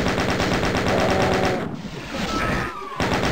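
Rapid machine-gun fire from the DOOM video game rattles loudly and continuously, then pauses briefly before resuming, with high weapon and effect sounds layered over it.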